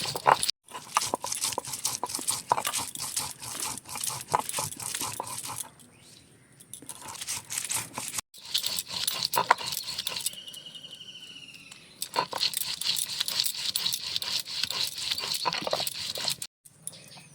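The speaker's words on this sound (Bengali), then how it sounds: "এবারে বেটে নিচ্ছি" Garlic, green chillies and thankuni leaves are ground on a stone slab with a stone roller in rapid, rhythmic rubbing and scraping strokes, close and fairly loud, pausing briefly a couple of times.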